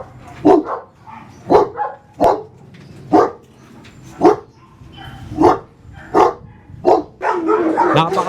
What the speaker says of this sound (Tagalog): Napakadaming aso dito sa Joverman Farm Kennel.